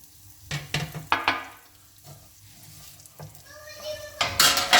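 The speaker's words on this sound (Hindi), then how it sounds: "बिल्कुल लो आंच के ऊपर आपने सिवइयों को भूनना है। ये सिवइयाँ इसी घी में भूनकर पकेंगी।" Vermicelli and cardamom roasting in ghee over a low flame, with a gentle sizzle and several quick scraping stirs up close, then a louder burst of frying near the end.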